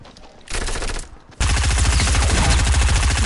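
Machine gun fire in a video game rattles in rapid loud bursts, a short volley followed after a pause by a longer sustained stream of shots, with no talking.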